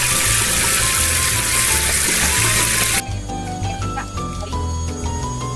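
Running water from a tap rinsing seafood during washing, a loud steady gush that cuts off abruptly partway through, leaving quieter kitchen clinks and faint tones.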